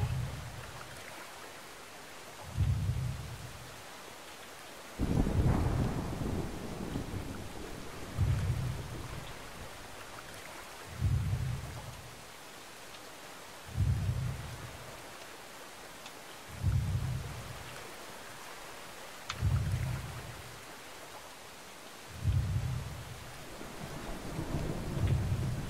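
In the video game Brothers: A Tale of Two Sons, a thunderstorm rolls on with steady rain, and heavy thunder booms strike about every three seconds, each one a low rumbling burst.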